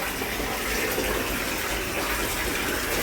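Water rushes steadily into a hydropower tunnel, a loud continuous gushing roar with no voices.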